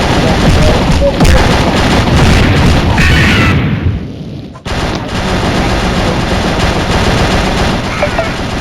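Loud explosions and rapid bursts of gunfire from the Mini Militia video game crowd together in a dense barrage. The racket drops out briefly partway through, then resumes.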